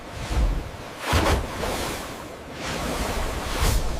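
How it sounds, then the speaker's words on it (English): A vessel cuts through open sea waves, with a rolling wash of water and wind rising and falling in broad surges, steady and moderately loud with no voices. "Cutting the waves."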